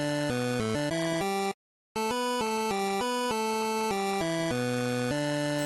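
Sprunki video game character Simon's sound, a bright synthetic melodic loop of short stepped tones in a bouncy rhythm, with a brief silent gap near the start before the pattern resumes, loud and clean.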